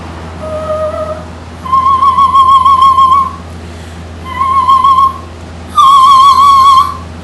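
A singer hums into high whistle-register tones in three sustained, pure pitches separated by short pauses, each held steady and loud, with the last one slightly higher.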